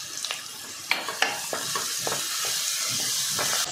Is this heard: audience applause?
no